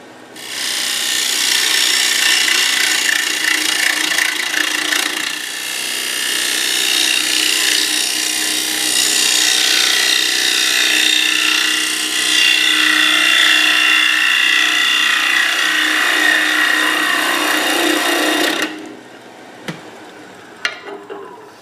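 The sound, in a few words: turning a winged wooden bowl on a lathe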